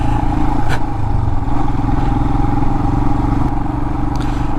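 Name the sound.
Royal Enfield Himalayan motorcycle riding over rough offroad terrain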